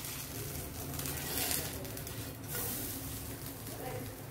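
A vegetable pancake frying in a pan over a low gas flame gives a steady, soft sizzle throughout, with a slight swell midway.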